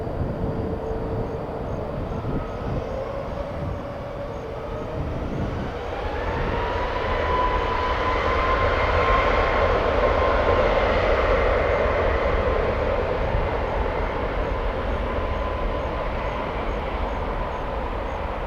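A Delta airliner jet taking off at Tampa, a steady broadband engine roar that swells and peaks midway, then holds strong and near with no talk over it.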